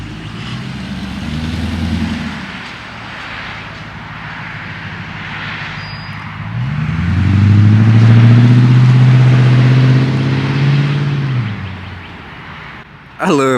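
A Lexus GSF with the mufflers cut off pulls away, its engine building to a deep, loud rumble that swells and then fades, with people talking nearby.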